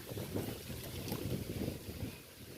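Strong wind buffets the microphone aboard a fishing boat at sea, a low steady rumble with gusty surges and faint water wash, no talk.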